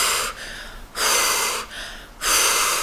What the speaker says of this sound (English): do some intense breathing for a while